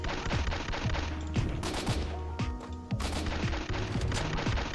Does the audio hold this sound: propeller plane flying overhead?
no